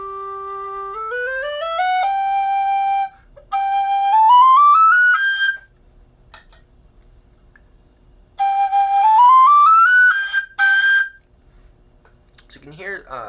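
An alto G whistle, a Goldfinch model, played with a clear, focused tone: three close, loud phrases of sustained notes climbing stepwise up the scale, separated by short pauses.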